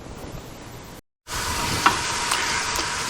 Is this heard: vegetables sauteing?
yes